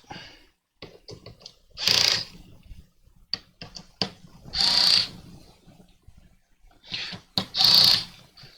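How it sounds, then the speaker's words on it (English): A Dremel electric screwdriver whirs in three short bursts, each a couple of seconds long, while tightening screws on a VORON 2.4 3D printer gantry, with light clicks and handling noises between runs, close and alone. "I'm using a Dremel electric screwdriver."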